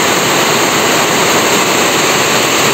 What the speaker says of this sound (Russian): влупил дождь. Убежали с огорода.